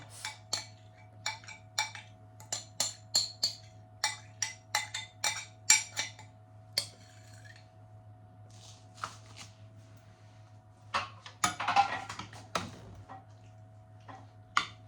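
Pasta and sauce being mixed in a dish for a cheat's pasta bake, heard as a run of close, irregular clicks and soft scrapes of a utensil against the dish over a steady low hum, with no talking.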